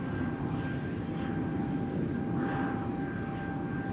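Airbus A220-300 airliner at Zurich Airport, a faint, distant steady engine rumble with a thin whine, continuous and low in level across the whole stretch.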